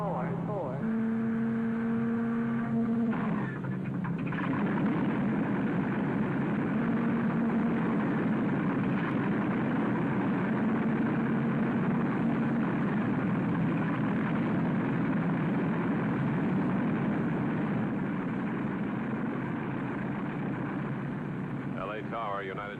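A United airliner taxis toward runway 25 left, its engines a steady, continuous low drone with a brief tonal whine near the start, while voices talk over the rumble.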